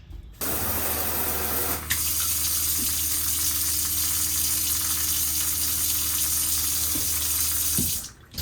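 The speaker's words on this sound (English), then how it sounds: "So now we're going to go ahead and drain the fresh water tank." Water gushes steadily as an Airstream trailer's fresh water tank drains, a loud continuous rush close up with a brief drop in flow partway through and no talking over it.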